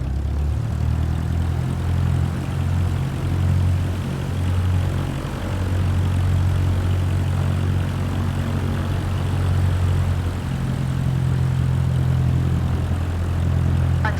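Simulated propeller aircraft engine in Microsoft Flight Simulator 2024 droning steadily while taxiing, a loud continuous low hum with layered engine tones that shift slightly in pitch as the throttle changes, heard alone.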